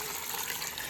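Water gushes steadily from a tap into a big bowl for soaking beans for Ghanaian waakye, a close, continuous splashing fill heard alone.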